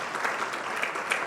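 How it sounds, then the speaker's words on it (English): A crowd at a technology summit applauds the organising team, steady dense clapping that fills the room for a moment. "Maybe we can give a big round of applause to the team that has been behind this."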